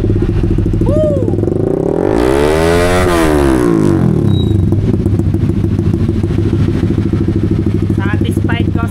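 A Honda Winner X motorcycle fitted with a replica Pro Liner exhaust pipe idles with a crackling burble, then revs in a loud sweeping rise and fall before settling back to a rough, popping idle, with brief voices over it.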